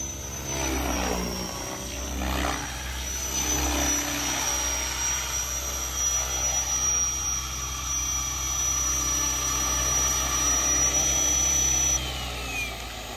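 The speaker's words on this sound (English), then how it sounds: "It seems like a solid helicopter, right?" A Synergy 516 remote-control helicopter flies with a steady mechanical whine, a high thin tone over a constant rotor-like drone, sustained and fairly loud throughout, hovering nearby.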